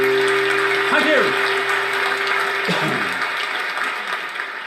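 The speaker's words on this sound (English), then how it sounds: "You're very generous with your applause this evening." Loud, dense audience applause at a lockdown live concert, steady from start to finish, with a faint held tone running beneath it for the first few seconds.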